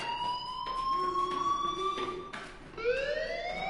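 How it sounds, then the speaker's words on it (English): A fire alarm sounds in a video game, with steady, loud, repeating electronic tones and sliding pitch sweeps carrying on without pause, alone and without talk. "do you hear that fire alarm?"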